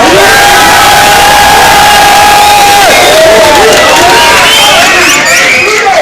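Loud crowd at a rap battle event cheering, whooping and shouting continuously, with dense overlapping voices and whistles filling the space.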